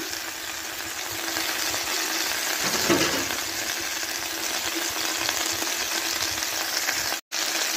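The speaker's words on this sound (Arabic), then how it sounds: "انا دلوقتي شوحتها كويس قوي مع الثوم" Potatoes with garlic sautéing in a pan: a continuous, close, even sizzle with faint stirring and no voices, cut by a brief dropout near the end.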